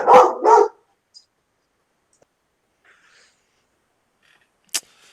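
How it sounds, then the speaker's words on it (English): Dogs in an alleyway give two quick, loud barks close together, followed by near silence broken only by a few faint distant sounds and a brief sharp click. "Yeah, some dogs fighting in the alleyway,"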